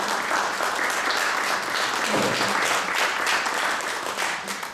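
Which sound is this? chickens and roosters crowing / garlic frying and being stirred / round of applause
round of applause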